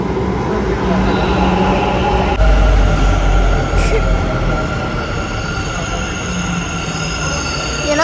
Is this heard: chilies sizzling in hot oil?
no